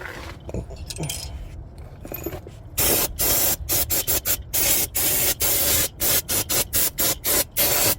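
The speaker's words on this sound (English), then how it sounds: "Spray this down." Loud bursts of aerosol cleaner sprayed on the brakes of a 2010 Genesis sedan in quick repeated pulses, preceded by some metallic rattling and scraping nearby.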